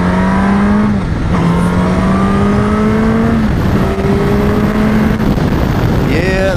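A 2024 Suzuki GSX-S1000GX sport tourer motorcycle accelerates hard through the gears, its engine note climbing steadily and dropping at each shift in a loud, continuous run heard from the rider's position.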